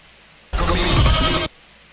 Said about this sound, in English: Someone's chasing a goat with a hatchet.